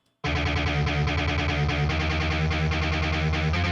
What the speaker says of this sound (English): So this is with the amp on it.